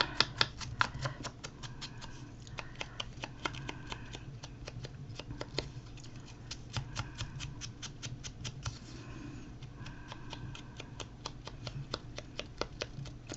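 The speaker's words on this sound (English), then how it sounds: "you can cut it apart again and cut around the edges." Scissors cut around the edges of a paper journal decoration, giving rapid, quiet, close-up snips in an uneven rhythm with brief pauses, and no voices.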